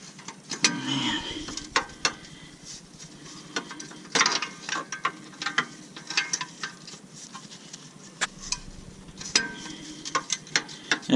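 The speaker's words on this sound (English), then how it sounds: "that heat shield is still hitting that wrench" Loose heat shield on a 2003–2006 Honda Accord rattling against a rented wrench near the upstream O2 sensor, giving irregular metallic clinks and taps of varying strength over a quiet background.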